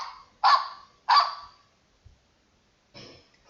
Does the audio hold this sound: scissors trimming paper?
no